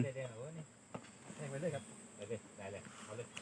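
Bees buzzing around an opened hive during bee collecting, a close, wavering drone that rises and falls in pitch, with some faint handling noise.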